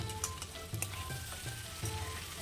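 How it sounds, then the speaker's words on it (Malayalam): Chicken pieces frying slowly in a pan after being partly steamed for a curry, a steady close sizzle with soft stirring knocks and scrapes recurring about every half second to second. "പിന്നെ ഇത് പതുക്കെ ഒന്ന് വറുത്തെടുക്കാം."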